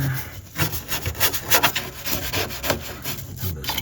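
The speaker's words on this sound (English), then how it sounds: "that's why I got this small brush to try to get back, back up in here" A small brush scrubbing around a bolt on a motorhome, rapid rough rubbing strokes in an uneven rhythm, close and fairly loud with no talk.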